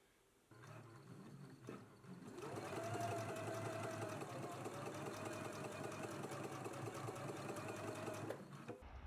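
A sewing machine stitching a t-shirt sleeve hem with a twin needle starts after a few handling clicks, then runs in a steady fast whirring rattle for several seconds before stopping.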